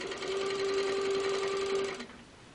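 Close, steady whir of a sewing machine stitching a quilt block, a continuous hum with a fine rapid needle patter that cuts off abruptly near the end, leaving quiet room tone.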